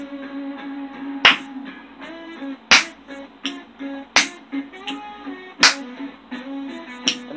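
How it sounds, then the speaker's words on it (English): An audience at an a cappella pop performance snaps fingers on cue, a series of sharp, evenly spaced snaps over a sung melody, loud and close in a steady rhythm. "Everybody over here snap like this."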